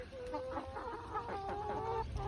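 Several laying hens cluck and murmur softly nearby, their short warbling calls overlapping against a faint background hum.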